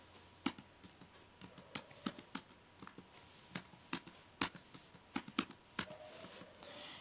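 Keys on a computer keyboard are tapped at an uneven pace while a password is entered, a scatter of quiet, close clicks with brief gaps and no speech.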